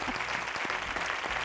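A studio audience on a Spanish TV quiz show gives a contestant a short burst of applause: a brief, even wash of clapping with no pauses.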